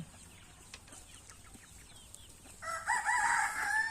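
On a poultry farm, quiet scattered chicken clucks give way to a loud, close rooster crow that fills the last second and a half.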